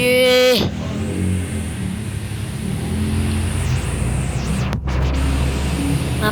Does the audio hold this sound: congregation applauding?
no